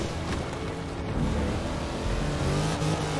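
Car engine in the racing game Forza Horizon 3, a continuous loud rev with rising and falling pitch and some tire noise, heard alone with no talk.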